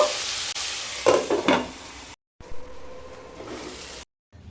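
Potato, carrot and cauliflower pieces, salted, frying in oil for navratan pulao: close, crackling sizzle with stirring scrapes, interrupted by two short gaps of silence.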